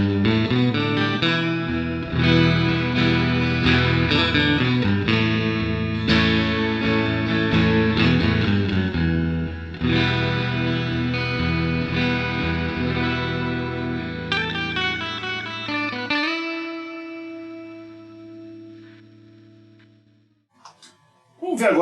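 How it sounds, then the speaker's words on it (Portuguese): An electric guitar played through a Digitech Mosaic 12-string simulation pedal, a pitch-shifter effect, rings out in loud, shimmering strummed chords and runs. It then drops to a single sustained note that fades, followed by a brief final strum. "patch que já vem pronto de simulação de 12 cordas"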